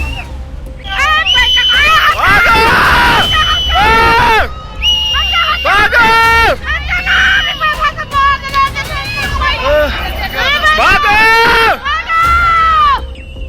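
Crowd of people screaming and shouting in alarm while a flood of debris sweeps away buildings in Uttarakhand, loud and sustained voices overlapping over a constant rumbling roar throughout.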